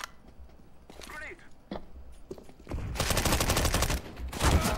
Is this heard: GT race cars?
no